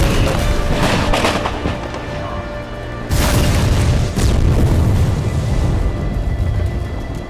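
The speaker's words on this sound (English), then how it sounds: "And it's a huge explosion" A huge staged explosion on the set of a Los Angeles alien-invasion war film rips through as a loud sustained boom, then a second heavy blast hits at about three seconds and a third soon after, each roaring on with rumbling debris.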